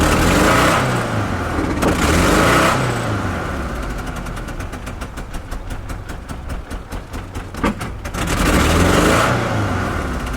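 A truck engine, low on fuel, running roughly after a jump start, loud and close, surging and sagging with uneven revs and a rattling, stumbling stretch in the middle.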